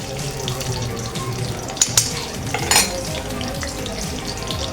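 Ingredients including a green chilli frying in a pan for a tempering, a dense continuous sizzle close by with a few sharp pops and a clatter of utensils, no talking.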